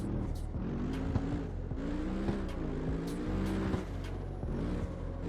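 Mercedes-AMG GT engine at low revs in the CarX Street racing game, a steady grumbly, boxer-like drone with small shifting harmonics, continuous and fairly close throughout.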